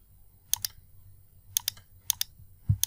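Several crisp mouse clicks at a computer during Photoshop work, arriving in quick doubled pairs with pauses between them, close and fairly quiet over a low room hum.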